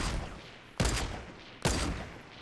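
Gunfire aimed at a brick wall under construction in Fortnite, two sharp bursts of shots about a second apart over a background of game ambience.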